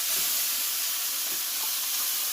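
Freshwater prawns fry in a hot kadai with a dense, steady hiss and sizzle that stays loud and close throughout the short moment, with no talking.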